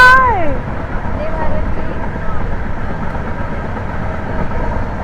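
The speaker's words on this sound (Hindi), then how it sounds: "वंदे भारत अभी क्रॉस करके अपने को निकली है।" A Vande Bharat express train rushes past close by, a loud continuous rumble and roar, heard from aboard another train, that opens with a brief falling horn-like tone and then stays steady throughout.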